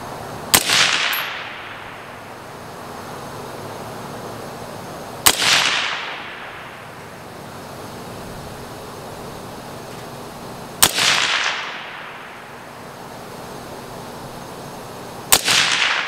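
Four single rifle shots from a Palmetto State Armory Jakl fired at a paper target, evenly spaced about five seconds apart, each a loud sharp crack with a short decaying tail and quiet pauses between.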